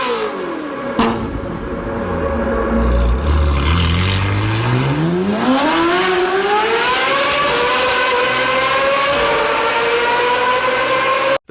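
Ferrari 458 Speciale V8 with straight pipes, naturally aspirated, winding up hard under acceleration, its loud exhaust note sweeping steadily upward through the revs and holding a high wail.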